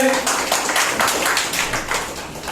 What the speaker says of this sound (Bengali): ওনার জন্য জোরে সোরে একটা করতালি হবে।